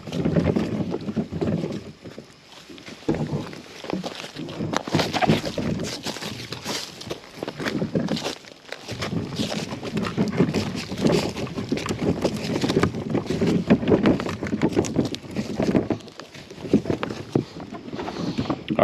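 Wheels of an all-terrain kayak cart roll from a dirt trail onto gravel, a continuous rough crunching and rattling rumble with a few brief pauses, steady and close, with wind buffeting the microphone.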